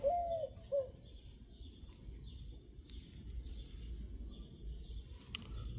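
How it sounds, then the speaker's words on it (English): A pigeon or dove gives a short coo, two brief soft calls near the start over a low background rumble indoors, then only faint hum. "The bird agrees."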